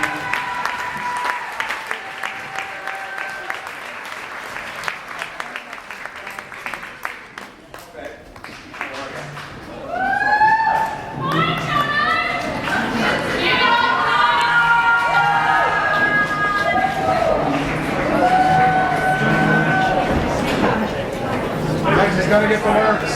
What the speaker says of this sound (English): Let's give this Bon Jovi a great round of applause.